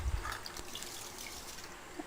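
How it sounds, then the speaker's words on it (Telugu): Basmati rice is swished and rinsed with water in a bowl, giving soft close splashes and drips that stay quiet and brief. "ఇప్పుడు బియ్యాన్ని ఒక బౌల్లో తీసుకొని 2-3 సార్లు బాగా కడగండి."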